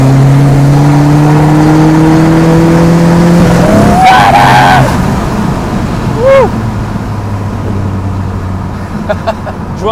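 Tires spin and slip under hard acceleration on a stage 3 tuned SEAT Leon 1M TDI, engine droning loudly before a sharp burst of rising revs and squealing, then a brief second chirp as the car pulls away.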